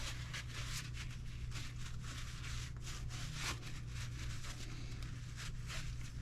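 A green rag wipes grease off the diff and gearing of an Arrma Limitless RC car, a steady close rubbing with quick repeated strokes over a low hum.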